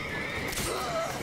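A horse whinnies once in Witcher 3, a short, near neigh with a rising and falling pitch over steady game ambience and faint hoof clatter.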